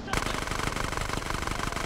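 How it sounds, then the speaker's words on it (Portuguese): Rapid automatic Uzi gunfire in GTA San Andreas in a continuous burst, sharp and evenly spaced shots firing close and loud for nearly two seconds. "O Uzi, mesmo sendo cego, ele atira mais tiro do que o Ryder e o Switch juntos."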